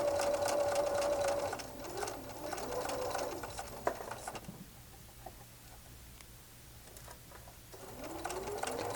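A sewing machine stitching quilt squares runs in a fast, steady whirr, pauses briefly, then starts up again in shorter bursts, close and moderate in volume with faint bird coos in the background.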